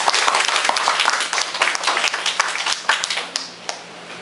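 A round of applause from a Nepalese community gathering at a congressional campaign meeting, lively close clapping that thins out and tapers off toward the end.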